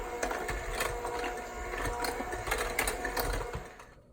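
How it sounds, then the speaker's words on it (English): A hand mixer whirs on low speed stirring dog treat ingredients in a bowl, a steady close motor buzz with light rhythmic clattering from the beaters. "we're gonna take our hand mixer or our fork and stir it just on low"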